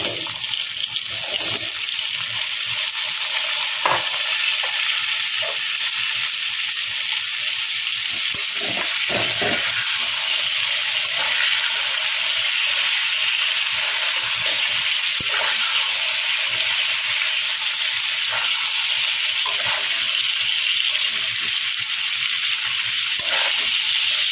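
Squash pieces fry in a pan of hot oil, a steady loud sizzle running throughout, broken by occasional scraping clicks of a stirring spoon against the pan.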